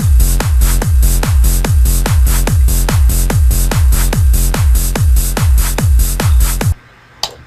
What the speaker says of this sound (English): how to make a hands-up bass in Fruity Loops using the TS404 bassline synthesizer